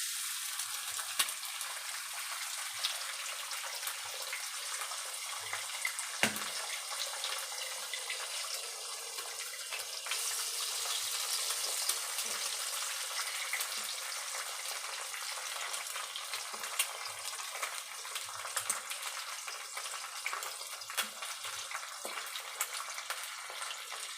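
Eggs sizzle steadily in a pan beside onions while Maggi noodles are being fried, a continuous close crackle of frying with faint scraping and stirring and no voices.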